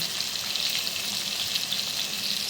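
Potatoes frying in a pan with turmeric and salt give off a steady, dense sizzle that holds evenly throughout, with no voices over it.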